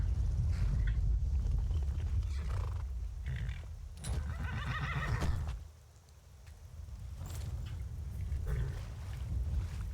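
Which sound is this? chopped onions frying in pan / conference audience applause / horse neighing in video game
horse neighing in video game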